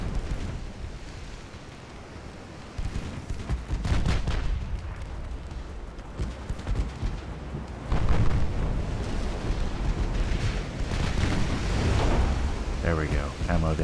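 Ammunition detonation aboard a warship in the Ultimate Admiral: Dreadnoughts naval game: rumbling explosions and bursts of gunfire-like cracks build into a heavy, sustained blast, with someone talking over parts of it.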